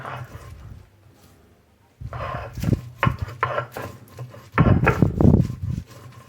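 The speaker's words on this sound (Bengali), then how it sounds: "লঙ্কা সহ পুরোটা আমি এটা বেটে নেব" Raw cauliflower leaves and green chilies being ground into a paste, with rough scraping and thudding grinding strokes that grow louder and more forceful partway through, after a quieter start.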